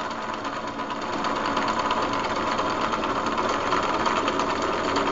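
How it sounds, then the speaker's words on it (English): Antique Paillard Maestrophone Model 206 gramophone powered by a Stirling hot air engine runs steadily, its motor giving a continuous, even mechanical whir with a faint rapid ticking rhythm, close and unbroken throughout. "This allows the engine to start to increase in RPMs."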